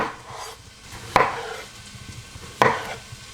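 A knife slices small new potatoes in half on a cutting board, two distinct chopping knocks about a second and a half apart over a quiet kitchen background.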